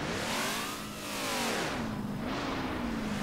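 Car fitted with a level 5 engine driving in Roblox Jailbreak during a NASCAR event, its engine revving and shifting pitch continuously, loud and close, with rising and falling tones and no talk.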